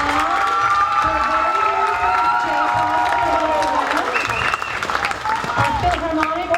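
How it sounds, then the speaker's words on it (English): An audience at a school fall orchestra concert applauds the third period concert orchestra with steady clapping and some cheers. Sustained tones carry through the applause, and voices join near the end. "Round of applause for them."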